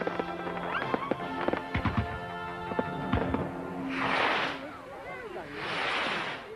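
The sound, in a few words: fireworks on a Channel 4 ident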